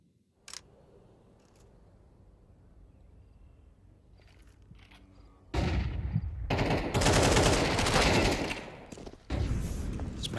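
Automatic rifle fire from Counter-Strike erupts midway after a quiet stretch, a loud, dense spray of rapid shots lasting a few seconds, then a brief pause and another close burst.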